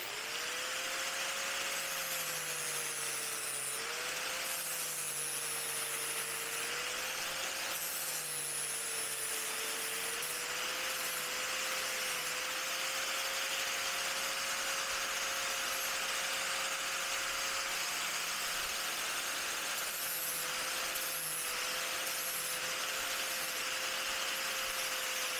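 A power tool rounds off metal corners on a Honda CB1100RS custom build, giving a continuous high-pitched whine with a steady grinding hiss that wavers slightly in pitch throughout.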